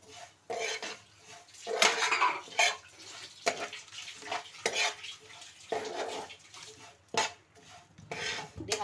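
Ghee-roasted vermicelli tossed into a pan for semiya payasam and stirred, giving irregular metallic scrapes and clinks of a utensil against the pan, close and fairly quiet, with brief pauses between strokes.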